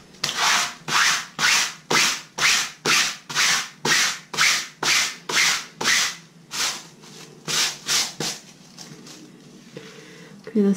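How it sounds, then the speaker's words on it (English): Vigorous scrubbing of a stain on colored fabric, about twenty rhythmic back-and-forth strokes at a steady pace, close and fairly loud, slowing and stopping near the end. "Let me do a little bit more scrubbing."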